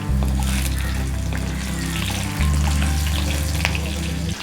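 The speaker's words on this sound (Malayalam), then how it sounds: "ഇഞ്ചിയും വെളുത്തുള്ളിയും ചതച്ചത് ഇട്ട് വശക്കാം." Crushed ginger, garlic and green chili fry in hot oil with a steady, loud sizzle and occasional stirring clinks throughout, close to the pan.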